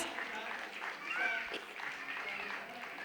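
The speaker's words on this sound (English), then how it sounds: "I want you people to give him a round of applause." An audience at a school event gives steady applause, a dense patter of many hands clapping at moderate distance, with some voices mixed in beneath.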